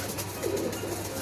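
Pigeons coo faintly in a soft, low burble under a steady background hum, with a brief rise in the middle.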